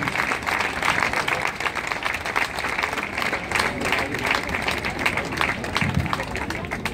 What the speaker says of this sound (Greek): ένα θερμό χειροκρότημα